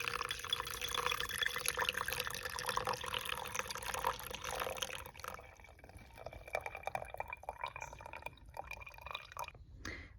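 Dandelion tea pours through a coffee filter into a cup, a close, busy liquid splash and trickle that thins into scattered drips toward the end, with no voices.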